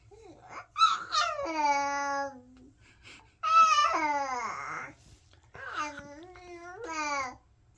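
A baby babbles in three drawn-out, sing-song vocal phrases with rising and falling pitch. The voice is close and clear, with short quiet gaps between the phrases.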